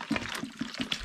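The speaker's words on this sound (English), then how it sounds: "I've got 2 litres of spring water here, which I'm just pouring on." Two litres of spring water poured onto dark malted grains for a home-brewed porter, giving a soft, close, continuous splashing trickle with small irregular gurgles and no voices.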